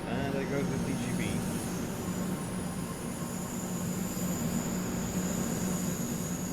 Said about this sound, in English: And there goes the TGV.